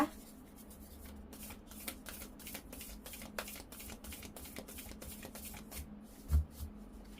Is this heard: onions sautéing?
no